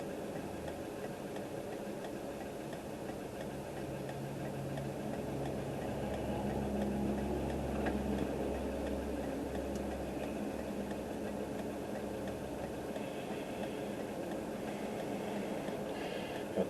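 A 1981 Ford Courier truck driving on a chip-sealed road, its engine a steady low drone with road rumble from inside the cab, even and moderately quiet throughout.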